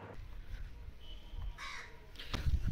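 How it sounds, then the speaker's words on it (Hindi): A crow caws a few times from a moderate distance outdoors, harsh short calls rising over quiet, low background noise. "कौवे को भगा रही थी मैं।"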